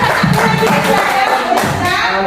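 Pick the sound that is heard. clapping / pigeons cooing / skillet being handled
clapping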